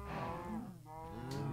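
Cows mooing in a Minecraft-style video game, one long drawn-out bovine moo that bends in pitch and is heard clearly and near, with no talk over it.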